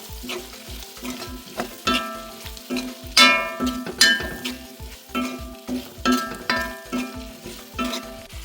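Onions, turmeric and spices sauté in a pan for onion sambar, a bright sizzle broken by rhythmic spatula scrapes and metallic clinks against the pan, close and clear with no voices.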